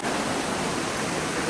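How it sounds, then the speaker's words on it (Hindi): A waterfall at the start of its cascade roars as a dense, steady rush of falling water, loud and unbroken throughout. "आप देख सकते हो यहाँ से वाटरफॉल स्टार्ट हो गया है"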